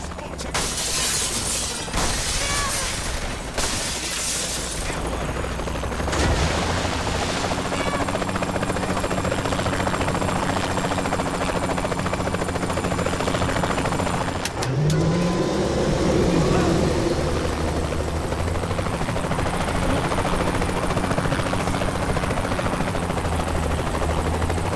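Helicopter in the video game Saints Row The Third Remastered, a steady rotor and engine drone running throughout, loud and close, mixed with game music and scattered crashes and effects.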